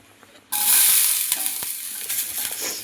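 Capsicum dropped into hot, smoking ghee erupts into a loud, steady sizzle that begins abruptly and holds, with a few faint stirring clicks and scrapes underneath.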